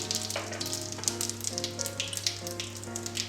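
Cumin seeds crackle and sizzle steadily in hot refined oil for an egg curry, a continuous close frying hiss with scattered pops and no talking.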